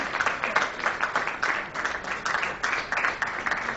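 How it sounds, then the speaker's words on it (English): Audience applause at a pledge unveiling during a healthcare industry annual event, a moderate crowd clapping in uneven bursts that swell and dip over a few seconds, with muffled voices beneath. "big round of applause, ladies and gentlemen"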